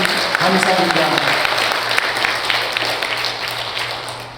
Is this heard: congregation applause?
yes